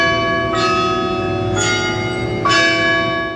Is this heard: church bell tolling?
yes